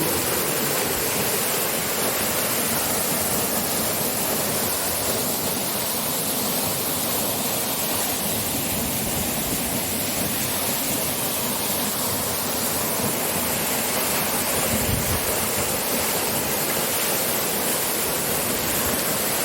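Batang Panariak waterfall at Batu Bajanjang pours in a steady, loud, dense roar of falling water that holds unchanged throughout.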